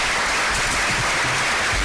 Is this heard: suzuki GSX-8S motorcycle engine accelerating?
no